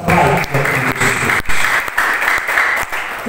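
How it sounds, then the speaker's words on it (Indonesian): Church congregation breaks into loud, close applause during a sermon, a thick, continuous burst of clapping from many people that holds steady with slight swells before easing. "Beri tepuk tangan."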